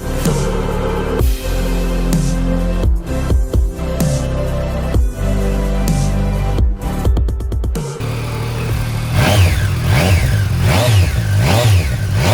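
A 2018 Triumph Street Triple 765R low-version motorcycle engine revs hard and close, with repeated throttle blips, rising and falling sweeps, and steady loud running throughout.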